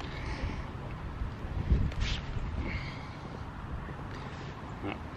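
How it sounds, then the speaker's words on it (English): Wind buffets an outdoor camera microphone with constant low rumbling gusts and a stronger blast near the middle, continuous and close. "wind's even blowing the camera"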